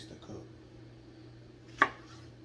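A single knife chop through okra onto a cutting board, sharp and close, over a quiet room with a faint hum.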